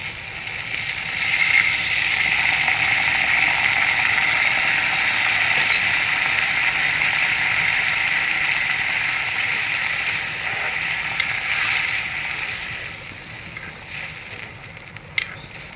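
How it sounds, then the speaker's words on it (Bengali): Water poured into a frying shing fish curry, producing a loud, sustained rushing sizzle and hiss that swells and holds for many seconds, with a few faint clinks near the end. "এখন আমি জল দিয়ে দেবো।"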